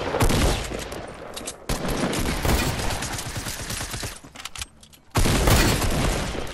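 Loud, dense bursts of video game gunfire from a sniper-rifle fight, in heavy clusters broken by a short lull before another strong barrage.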